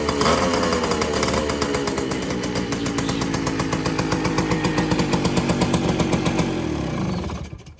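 A small Yamaha V80 motorcycle with a three-speed engine runs at close range, putting out a loud, rapid two-stroke putter that pulses unevenly and then cuts off abruptly near the end.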